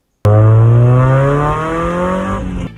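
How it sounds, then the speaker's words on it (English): Mazda Miata engine fitted with a new stock exhaust, starting abruptly and revving hard with a loud, close, buzzy drone that eases slightly as the revs settle. "I kept things simple and installed a new stock exhaust. Here's what it sounds like."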